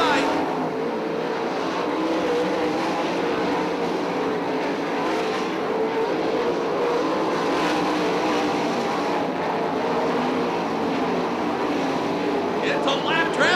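410 sprint cars race at Attica Raceway Park in 2009, the pack's engines giving a continuous, fairly distant roar that holds steady throughout.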